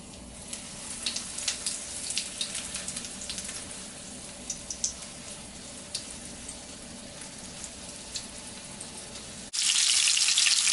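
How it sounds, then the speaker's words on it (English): Breaded beef cutlets fry in hot oil with a steady, close sizzle and scattered crackling pops, ending in a sudden louder burst of hissing. "I am heating up the oil and just want to fry the breaded beef cutlets"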